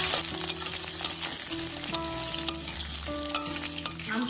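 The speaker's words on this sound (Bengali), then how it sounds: "তেলে একটু ভেজে নেব" Raw mango pieces fry in hot oil with black mustard seeds, a dense close crackling sizzle with sharp pops and spatula knocks at regular intervals.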